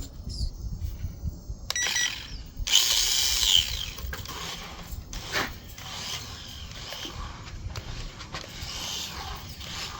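The small electric motor of a WLtoys 244018 mini truggy RC car whines at a moderate setting, rising in a brief loud burst then running on in uneven, intermittent spurts with mechanical ticks, close by.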